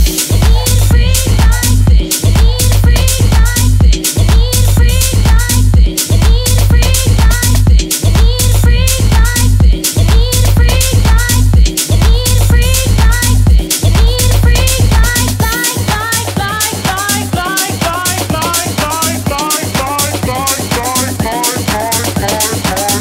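House music DJ mix: loud, steady four-on-the-floor kick with driving hi-hats and a pulsing bassline, the low end briefly dropping out and thinning toward the end.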